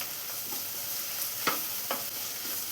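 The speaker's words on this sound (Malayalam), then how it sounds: "ഇനി ഇതെല്ലാം കൂടെ നന്നായി തന്നെ സവാളയെല്ലാം ഗോൾഡൻ ബ്രൗൺ കളറായി വരുന്നവരെ ഒന്ന് വഴറ്റിയെടുക്കാം" Sliced onions sautéing in a pan toward golden brown give a soft, steady sizzle, broken by two brief scraping stirs of a utensil, quiet and close, with no talking.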